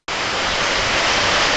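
Heavy rain in Shimoga falls in a dense, steady hiss that starts suddenly and holds loud and close, with no voices.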